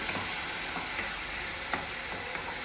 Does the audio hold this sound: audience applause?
no